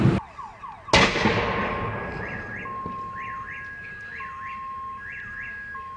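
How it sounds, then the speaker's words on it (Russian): Two sharp explosive bangs as car tires burst in a fire in quick succession, followed by a wailing car alarm cycling its warbling tones in the distance with crackling background noise. "И сейчас начинает взрываться колеса."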